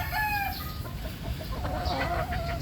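A Lemon breed hen clucks and murmurs nearby in short repeated calls, with a faint background hum and no speech.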